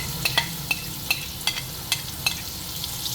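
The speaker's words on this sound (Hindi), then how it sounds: "मैंने पेस्ट जो बनाया था ये इसी ऑयल में डाल देंगे जिसमें से निकाला था" Ground masala paste fried in oil for red beans, a low steady sizzle with sharp spoon scrapes and taps recurring about every half second, close and with no voices.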